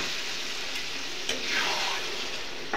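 Water splashes into a pan of sizzling chicken masala paste, a steady close hiss of frying with brief louder bursts as the liquid hits the hot spices.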